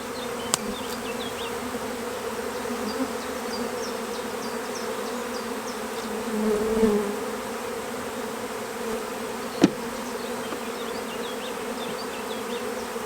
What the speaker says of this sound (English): Just brush the bees off so we don't crush any.